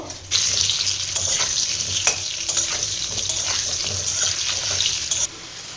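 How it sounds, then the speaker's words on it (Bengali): Potatoes sizzling and frying in hot oil, mixed with cumin and bay leaf, a close, steady crackling hiss that starts abruptly and drops off near the end, with no talking. "আলুগুলো আগে ফ্রাই করে নেব।"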